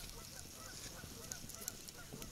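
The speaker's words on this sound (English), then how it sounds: "Geese going off now." Geese honking faintly in the distance at an early spring campsite, a few scattered calls over a steady low outdoor hiss and soft background noise.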